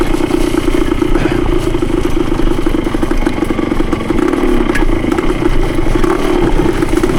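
Yamaha CT3 175 motorcycle engine running steadily during a woods ride, a continuous mid-pitched drone with light mechanical clatter, loud and close, no talk.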